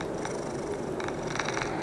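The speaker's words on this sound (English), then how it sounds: "He purred and trilled like a pet cat." A horned red dragon purrs and trills like a pet cat, giving a soft, close, continuous rumbling purr with a few light chirping trills on top.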